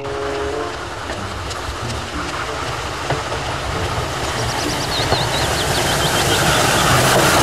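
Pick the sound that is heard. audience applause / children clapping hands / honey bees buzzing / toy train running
toy train running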